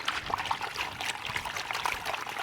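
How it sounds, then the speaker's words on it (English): Water trickles over rocks in a small garden waterfall, a continuous close splashing and bubbling with irregular droplet plinks, steady and moderately loud with no voices. "what we've got here is we've got a couple of different rocks that are blocking and changing the flow of the water"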